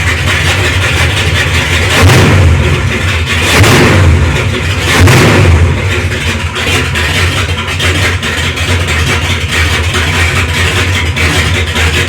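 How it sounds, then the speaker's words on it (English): A Pontiac GTO engine runs loud and close, rumbling at idle with three short rises in revs early on before settling into a steady idle. "here's that clip again of me starting up the car for the first time"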